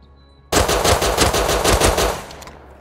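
A mounted M2 machine gun in Rust fires a loud, rapid sustained burst of about one and a half seconds, the close rattling shots starting abruptly and then cutting off.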